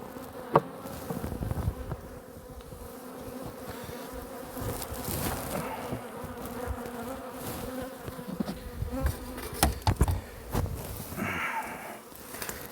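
Honeybees swarm in a dense, steady buzz around an opened hive without smoke, agitated insects droning close to the microphone with occasional louder fly-bys and light handling knocks, and no talking.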